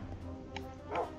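A person imitates a dog barking in a few short yips and a bark-like burst, faint and close, set over a low background hum.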